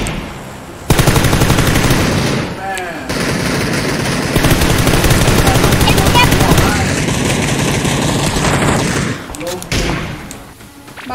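Loud, sustained automatic gunfire in PUBG, rapid bursts close by with thumping impacts, running almost continuously for about ten seconds with a voice briefly heard under it.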